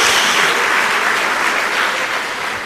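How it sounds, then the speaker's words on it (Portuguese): A church congregation bursts into thick, loud applause during a worship service, the clapping filling the space evenly and tapering slightly near the end. "Na salva de palmas a Jesus."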